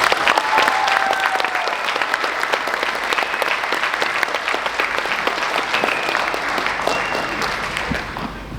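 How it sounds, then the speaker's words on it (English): Applause from a spring orchestra concert audience, a dense sustained burst of clapping that stays strong throughout and fades slightly at the end. "So here is one more round of applause for our 3 amazing singers."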